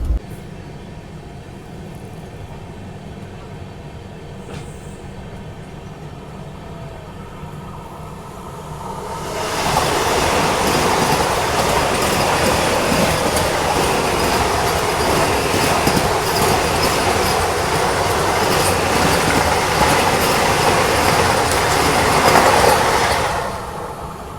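East Coast Express passenger train rolling on rails, a steady rumble heard from inside that grows louder and rougher midway with clattering wheels and faint squeals, continuous throughout.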